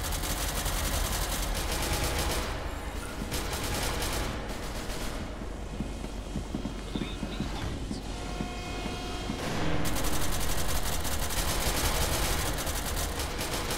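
Dense, continuous gunfire from a video game, with rapid automatic bursts and scattered shots running throughout at a steady loud level, growing slightly louder near the end.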